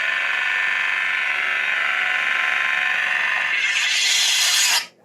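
A Starfall Sabers Legacy prototype lightsaber ignites with a bright sustained electronic hum that swells into a louder, brighter surge before cutting off abruptly at the end.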